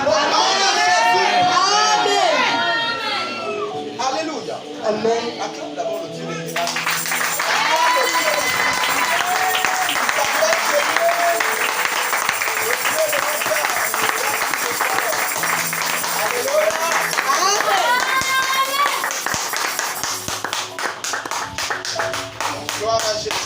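A church congregation applauding: sustained crowd clapping with cheering and excited voices mixed in, starting after a spoken or sung opening and carrying on loudly to the end.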